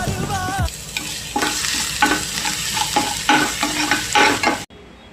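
Garlic and green chili paste with mustard seeds and curry leaves crackling in hot oil for a kadhi tempering: loud, close sizzling with repeated stirring scrapes, ending abruptly, no voices.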